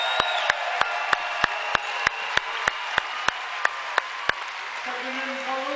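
A crowd at a basketball game applauds in a steady rhythm, sharp evenly spaced claps ringing out over a constant murmur of the crowd, the clapping stopping near the end as a voice speaks.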